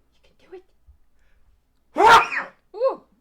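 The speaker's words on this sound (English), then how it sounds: "God, I need to sneeze." A single loud, close sneeze bursts out after a few faint breaths and small mouth noises, followed by a short vocal exclamation.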